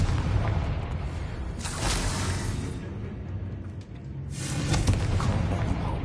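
Two heavy blasts from the Confringo fire spell in Hogwarts Legacy, each a booming burst with a crackling tail, the second arriving after a short lull, loud and close.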